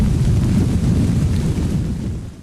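A thunderstorm rumbles low and heavy through a rainy night, a continuous roll of thunder that fades out at the end.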